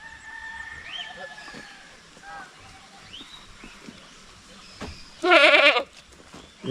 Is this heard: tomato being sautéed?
no